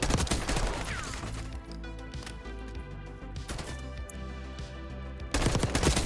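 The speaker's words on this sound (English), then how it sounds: "if I hold down the trigger, it's still going to keep bursting" Rapid automatic burst fire from an XM4 assault rifle in the video game Black Ops 6, repeated loud, punchy volleys of gunshots close up, with heavy clusters at the start and end and sparser shots between.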